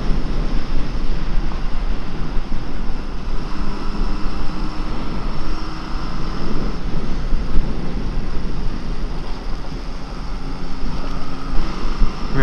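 A Honda CB750F cafe racer motorcycle ridden at speed, its engine droning steadily beneath heavy wind buffeting on the microphone, a continuous roar with no talk.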